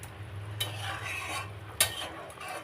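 Fish pieces go into a pot of curry with eggplant and potato, a quiet simmering bubble with two sharp clinks of a ladle against the pot, close by.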